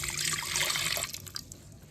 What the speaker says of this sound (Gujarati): હાલો ભાઈ પહેલાં આપણે નાખી દઈએ આ પાણી